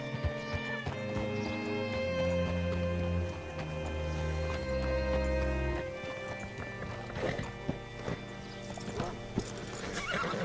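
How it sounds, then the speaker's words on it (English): A horse in the Red Dead Redemption 2 video game clops its hooves steadily and gives loud whinnies, close and prominent over a sustained tonal background. "Hitch your horse up here"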